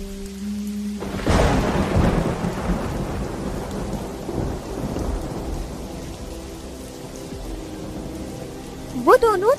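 Heavy night rain pours steadily in a cartoon storm as a loud thunderclap breaks early, then a dense wash of rainfall continues under a soft musical drone.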